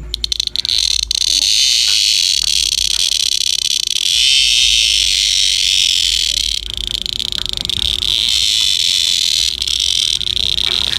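A handled mountain beetle gives a loud, sustained high buzzing call, a shrill continuous drone that wavers slightly in pitch and intensity, with faint handling noise and no speech.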